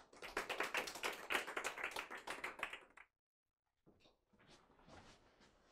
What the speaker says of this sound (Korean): 박수 환영해 주세요